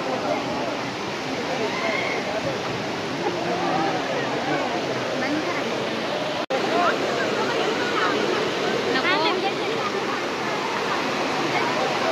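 Palse waterfall at Mulshi pours with a steady, close rushing roar that fills the whole stretch, while people talk over the water's constant wash.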